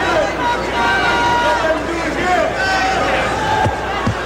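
Boxing match crowd at a Julio Cesar Chavez versus Ruben Castillo title defense, a loud continuous roar and murmur of spectators filling the arena throughout, with a few brief sharper shouts near the end.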